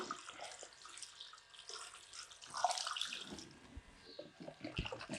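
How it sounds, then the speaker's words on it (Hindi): Water pours from a one-litre jar into a large cooking pot for a big batch of beef yakhni pulao, a soft irregular splashing and gurgling that rises in bursts, fairly quiet and close. "अब इसके अंदर मैं 6 लीटर पानी शामिल कर दूंगा"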